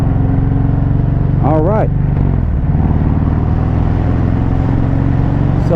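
An Arlen Ness Velocity 65 motorcycle being ridden, engine droning loud and steady right at the microphone with a brief rise in pitch, as a rider speaks over it.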